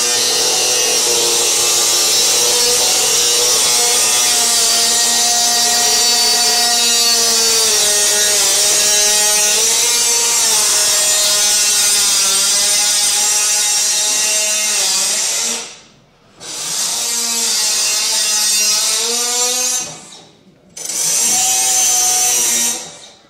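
Power tools run continuously in a caravan workshop, a steady loud whine of sawing, grinding and drilling on wood and metal with shifting pitch, cutting out briefly twice near the end before starting again.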